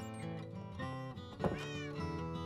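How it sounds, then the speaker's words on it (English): Cats in the video game Minecraft let out a drawn-out, wavering meow, loud and close, with no talking. "That's where the cats are coming from."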